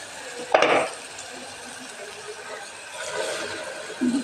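Chicken pieces for biryani go into a hot pan with a sharp burst of sizzle, then settle into a softer, steady frying hiss with occasional stirring scrapes and a brief clink near the end.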